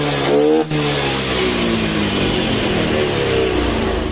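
Honda Beat FI scooter engine in a workshop after servicing, revved with rising and falling pitch, close and loud, a brief dip early on, then held throttle sweeps.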